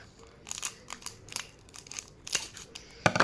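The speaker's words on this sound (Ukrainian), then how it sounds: "Ножниці! їх відкриваємо пакетик." Scissors snip repeatedly through crinkly plastic, a series of sharp close cuts with rustling between them.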